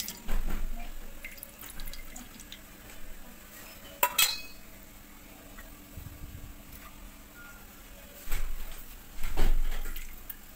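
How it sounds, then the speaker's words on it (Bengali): Water poured out of a vessel into a sink during a daily home worship routine, heard as a couple of short, close splashing bursts near the end, after quiet room tone and a faint clink. "এবার এই জলগুলোকে ফেলে দিচ্ছি"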